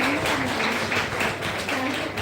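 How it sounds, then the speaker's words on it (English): Audience applause for a student at a school centenary closing ceremony, a dense, steady wash of many hands clapping that holds at an even level throughout. "Yes, an extra round of applause for Reshab."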